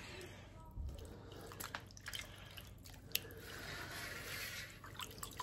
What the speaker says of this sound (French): je prends de l'eau